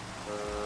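Rain falls in the video game Minecraft as a steady, even hiss over a short moment, heard alone without any voices.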